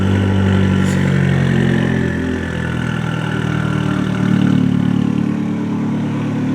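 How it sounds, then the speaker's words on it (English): A Fiat Abarth engine idles very loudly up close, a dense steady rumble with slight swells and a brief dip, running on alone for several seconds. "That is an insanely loud idle for what we're expecting."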